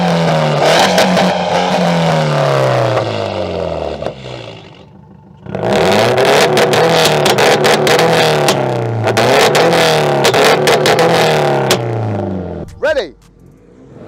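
A 500 hp fully built Subaru WRX STI and a 400 hp bolt-on Mitsubishi Lancer Evolution X rev their engines loudly and up close. The revs rise and fall in repeated bursts, with a short lull partway through and a quick final blip.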